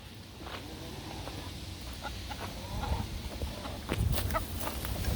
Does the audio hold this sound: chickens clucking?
yes